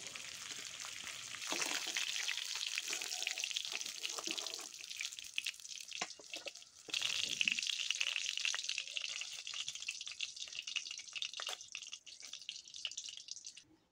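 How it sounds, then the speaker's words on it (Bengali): Katla fish frying in oil gives a steady, quiet, crackling sizzle that stops briefly midway and then resumes with busy spattering, with no voices. "মাছগুলো খুব বেশি কড়া করেও ভাজতে হবে না আবার নরম করেও ভাজতে হবে না"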